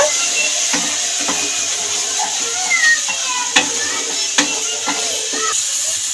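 Masala with cashew paste sizzles in a pan under a constant frying hiss, broken by scattered scrapes and taps of a spoon stirring it; a few faint squeaky sounds rise in the background.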